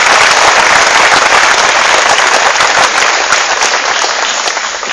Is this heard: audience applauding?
yes